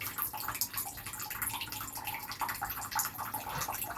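A shower spray running for a green cheek conure parrot, a steady dense hiss of falling water with fine splashing and dripping, close and continuous without pause.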